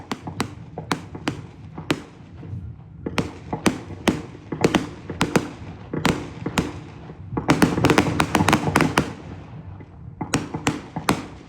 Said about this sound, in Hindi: मैदान के बीचों बीच हर्ष फायर का यह पहला क्रम चलता हुआ